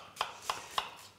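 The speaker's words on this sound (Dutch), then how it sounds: "Kan daar een echalotje in snijden." Knife chopping a shallot into coarse pieces on a board: three sharp, evenly spaced chops, close and crisp, with quiet pauses between them.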